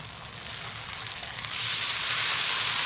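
Breakfast chorizo frying in olive oil on a plow disc: a close, continuous sizzle and hiss that swells louder halfway through, with no one talking.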